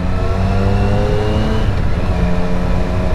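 A 2020 Triumph Street Triple RS motorcycle engine with stock exhaust runs steadily and loud up close with a deep, throaty exhaust drone, a continuous rumble without any talking.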